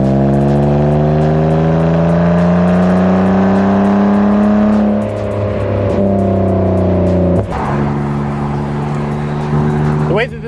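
A BMW Z3 sports car, 170 brake horsepower, accelerates hard up a mountain road, its engine note climbing steadily through the gears with sharp shift breaks, loud and close from inside the car.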